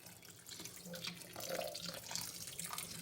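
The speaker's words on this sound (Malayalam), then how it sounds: "കുറച്ച് നല്ല തണുത്ത വെള്ളം ഒഴിച്ച് കൊടുക്കണം" Cold water runs and splashes steadily for a few seconds while rinsing ada for payasam, a continuous close pour with a faint hollow gurgle underneath.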